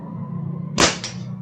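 A Chinese-made airgun fires once at metal targets outdoors, giving a single sharp crack followed moments later by a faint metallic hit, set against a steady background hum with no voices.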